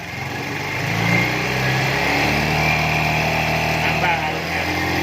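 A Honda Beat FI scooter with a weak battery runs and revs as the throttle is opened, a steady buzzing engine note rising in pitch, close by with a person talking over it.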